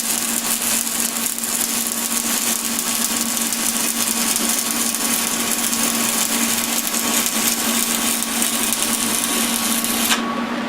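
A Lincoln TIG 200 Squarewave lays a bead while arc welding. A steady, close electrical buzz and hiss run unbroken for about ten seconds, and the brightest edge of the sound drops away just before the end.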